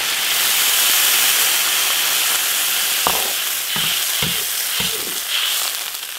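Water poured into a hot iron wok of pork ribs, producing a broad, steady sizzle and steam hiss with a few soft stirring knocks near the end, close and fairly loud.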